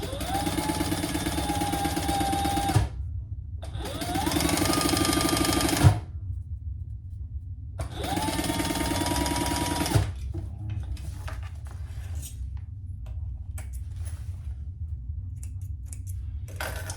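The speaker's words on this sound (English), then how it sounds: "we're just going to sew that, baste that in place" A sewing machine bastes pieces of a triple zipper crossbody bag together in three steady, close bursts of stitching, with brief pauses and light fabric handling between them.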